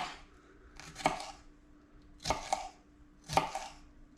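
A jalapeño sliced into thin julienne strips with a knife on a cutting board: three distinct crisp chopping thuds, each about a second apart, close and quiet, with no talk.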